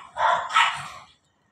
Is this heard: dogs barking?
yes